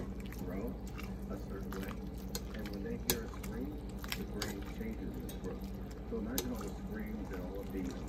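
A spoon stirs cabbage roll soup in a pot, giving soft scraping and clinking against the pot over a low kitchen hum, with a person talking at times.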